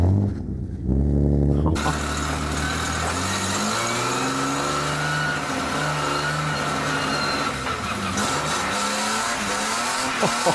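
A car drifting with its door open: a loud, steady engine roar with rising revs and long squealing tires, continuous and close throughout with no speech.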